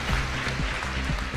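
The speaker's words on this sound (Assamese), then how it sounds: "এটা দীঘলীয়াকৈ হাত চাপৰি বজাই দিয়ক তেখেতসকলৰ কাৰণেও।" Audience applause for a tribute at an Assamese public event: a steady, dense wash of clapping through the whole stretch, moderately loud, with a low tonal hum running underneath.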